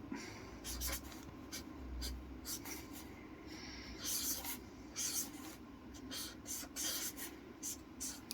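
A pen draws a character on paper in close, scratchy strokes and rubbing passes, arriving in irregular bursts over a low steady background hum.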